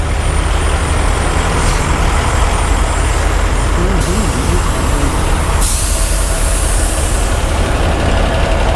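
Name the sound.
trucks idling in a truck stop parking lot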